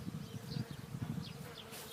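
Steady, close buzzing of bees near an apiary, a continuous insect drone with slight fluctuations and no voices.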